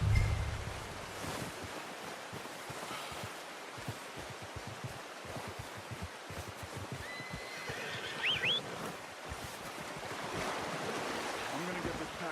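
A horse neighs in the Red Dead Redemption 2 video game, a brief whinny partway through over a constant wind and surf-like outdoor ambience, with occasional faint voices.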